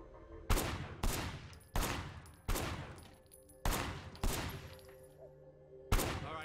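Gunfire in the Sleeping Dogs video game: seven loud, separate shots ring out at uneven intervals, each a sharp crack followed by a decaying echo.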